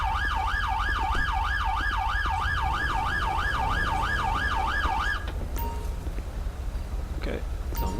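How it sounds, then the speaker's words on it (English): An emergency vehicle siren in the police game LSPDFR wails in a fast, steady up-and-down sweep for several seconds, then cuts off, leaving engine and road noise. "he's sitting there blaring his damn siren"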